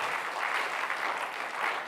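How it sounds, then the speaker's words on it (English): A lecture-hall audience at a university inaugural lecture applauds the Vice Chancellor, giving a short, dense, even burst of clapping with no voices over it. "Let's give a round of applause for the Vice Chancellor."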